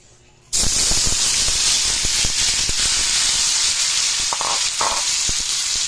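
Tofu pieces frying in a hot pan for lumpia togue. The sizzle bursts in abruptly after a quiet moment, then settles into a loud, continuous crackling hiss with scattered pops.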